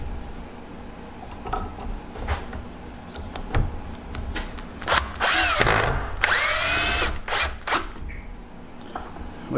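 A power drill whirs in short close bursts as it snugs down screws holding a deer antler onto a form, with handling clicks and taps between the runs of the motor.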